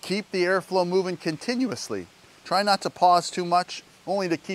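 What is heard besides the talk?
No distinct noise like a dog, phone or traffic.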